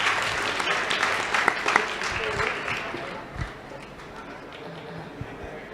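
An audience claps at a students' camp gathering in Faridabad, a dense, fairly loud burst of applause that thins out and fades after a few seconds.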